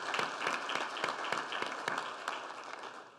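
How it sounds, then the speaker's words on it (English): A crowd at a police fallen officers tribute ceremony applauds survivors of fallen officers, a dense, steady wash of many hands clapping throughout before gradually thinning toward the end. "Let's give our survivors another round of applause."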